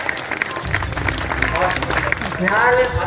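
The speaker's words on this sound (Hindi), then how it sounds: "जोरदार तालियां उठे" Audience at a Hindi humorous poetry gathering at a Dussehra fair applauding, steady crowd clapping with mixed voices and noise, a voice rising near the end.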